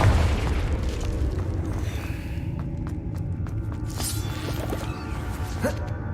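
Confringo fire spell cast in Hogwarts Legacy, bursting into a loud continuous booming rumble with crackling pops, a game explosion sustained for several seconds.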